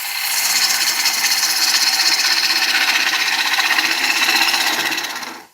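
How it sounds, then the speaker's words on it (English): A lathe gouge cuts into spinning ash wood during woodturning, a close, loud, continuous hissing shave that holds steady and stops abruptly at the end. "You're swinging that gouge round, you see."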